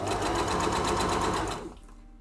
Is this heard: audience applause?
no